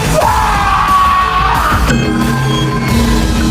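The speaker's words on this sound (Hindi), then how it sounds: "उसकी चीखें जंगल में गूंज उठी।" A man's scream echoes through a forest in an animated Hindi moral story, a loud drawn-out yell that rises and then breaks into a second bellowing cry over a dense, dark ambient bed.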